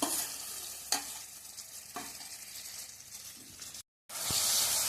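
Dried prawns fry in hot oil in a kadai, a steady close sizzle with a few sharp stirring scrapes, a brief gap of silence near the end, then a louder burst of hissing.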